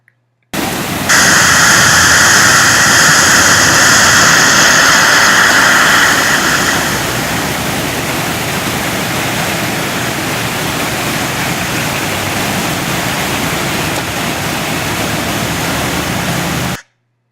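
A big semi-truck pushes through deep floodwater on a road, making a loud, continuous rushing hiss of spraying water that stays steady throughout, with a brighter engine whine over the first few seconds.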